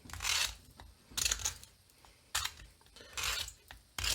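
Thick-bladed scissors scrape along the inside edge of a cast mask shell in four separate gritty strokes, each a rough rasp with quiet gaps between, close and unaccompanied by talk.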